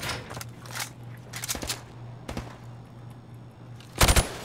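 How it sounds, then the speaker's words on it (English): Hip-fired gunshots at targets in Call of Duty Modern Warfare, a handful of short cracks spaced through the moment ending in a louder, quick cluster, over a steady low hum. "shoot at the targets while firing from the hip"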